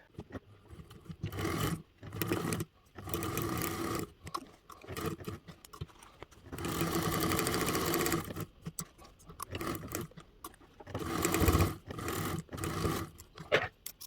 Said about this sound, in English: we're going to sew that all together with a 5/8 seam allowance